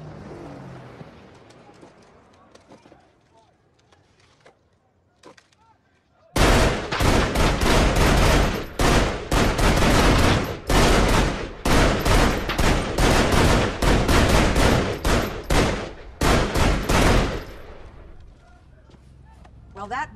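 Guns fire in a burst-heavy fusillade in a science fiction action film, loud close rapid shots crackling for about ten seconds after a quieter opening, with voices heard around the shooting.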